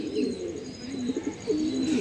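Madrasi pigeons kept as home flock birds in Kolkata give soft, low repeated cooing, a steady murmuring run of coos close by with no talk over it.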